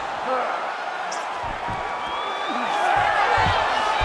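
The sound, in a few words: crowd reacting in UFC 5 video game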